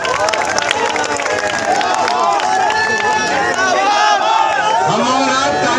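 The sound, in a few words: crowd applauding at political rally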